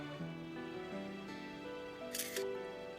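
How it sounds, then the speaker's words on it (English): In-game camera shutter from Trails of Cold Steel IV, a single brief click heard over soft sustained background music. "take a picture."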